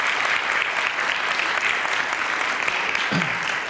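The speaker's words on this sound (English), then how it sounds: "Let's give them a round of applause for their efforts." An audience at a school variety show breaks into a steady, full round of applause, dense clapping that holds at an even level throughout with no voices over it.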